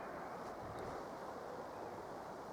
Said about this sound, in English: Man, the wind is picking up and I need to go home.